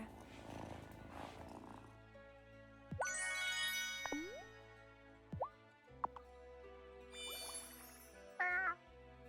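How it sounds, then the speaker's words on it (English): A cat in the farming game Wylde Flowers purrs softly, with a few short meows and light chimes on top, over quiet background game music. "Listen to that purr."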